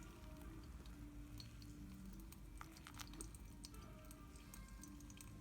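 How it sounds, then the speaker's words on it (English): Hot water is poured slowly over coffee grounds, giving a faint, steady trickle with soft drips and crackles, close and low in level, with no voices. "Pouring water all around coffee."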